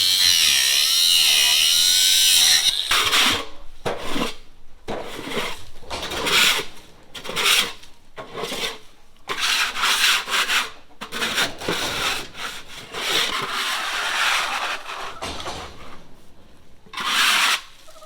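A metal scraper drags across a goat barn floor in repeated rough, rasping strokes with short pauses between, loud and close with no talk.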